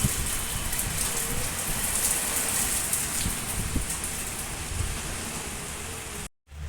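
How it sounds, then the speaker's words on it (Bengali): Heavy rain driven by wind drums down in a loud, dense, unbroken roar of drops, cutting out briefly just before the end. "এই দেখো, হাওয়ার সাথে বৃষ্টি একদম হচ্ছে ঝমঝম।"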